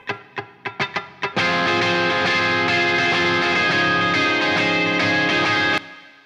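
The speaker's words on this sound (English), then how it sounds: "First up we have one guitar playing chords." An electric guitar playing chords with room reverb, a few quick muted strums and then a loud sustained ringing chord that decays into a reverb tail, with no talking.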